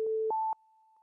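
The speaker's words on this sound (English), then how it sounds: "Now we hear the sine wave, but at 3 different frequencies" Synthesized sine wave tones play in quick succession at three pitches: a short lower steady tone, then a higher one that holds, then a faint lingering tail, clean and electronic with small clicks at each change.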